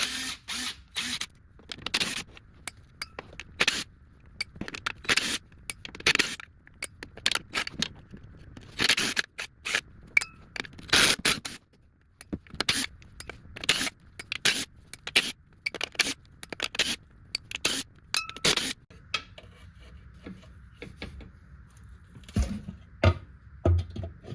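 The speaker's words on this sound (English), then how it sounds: "Go ahead and zip out the bolts for this filter." A power tool zips transmission filter bolts out of a 2015 Mazda 3 in repeated short bursts with brief pauses between, close and fairly loud, with no talking.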